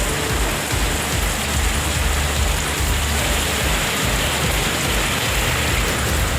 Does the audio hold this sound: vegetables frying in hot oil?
no